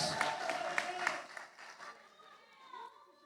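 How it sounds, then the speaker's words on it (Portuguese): A church congregation gives scattered, fairly faint hand claps for about a second. The clapping thins out and fades under voices and sustained tones that carry on quietly afterward. "Isso, aplaude a Jesus."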